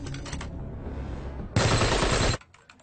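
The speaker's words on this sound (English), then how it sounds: "the eye in the sky is picking up gunfire in Zone 12" A long, loud burst of automatic gunfire rattles for about a second in a video game, preceded and followed by softer scattered shots.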